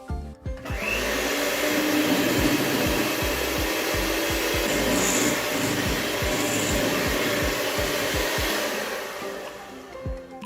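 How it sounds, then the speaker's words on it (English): A hand mixer beats butter and icing sugar in a bowl with a steady, loud motor whir that carries on without a break for about ten seconds, the beaters clattering rhythmically, with no talking. "But as you guys can see, you can still do it using a hand mixer."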